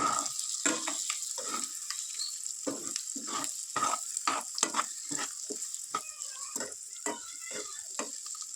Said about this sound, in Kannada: ಈ ರೀತಿ ಮಿಕ್ಸ್ ಮಾಡಿಕೊಂಡು ಎಲ್ಲ ಕಡೆನೂ ಚೆನ್ನಾಗಿ ಫ್ರೈ ಮಾಡ್ಕೋಬೇಕು ಫಸ್ಟು